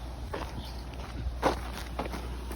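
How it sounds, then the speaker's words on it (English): Footsteps walk along an outdoor creek path: soft, irregular steps, fairly faint and close, with no talking. "we're just walking back from the little creek spot"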